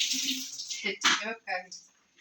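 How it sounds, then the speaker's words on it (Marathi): Water runs from a tap into a container at home in a brief, close, splashy burst. The flow changes pitch as it fills, with a few short breaks, and ends in quiet. "पाणी भरून घेतो"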